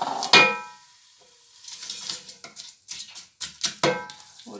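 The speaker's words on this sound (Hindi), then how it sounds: "तो मेरे पास फ्रोज़न वेजिटेबल थी ना। अब इनको हम फ्राई करेंगे।" Frozen vegetables frying in a pan for prawn fried rice, a sharp clatter as they land, then scraping and stirring strokes against the pan over a light sizzle.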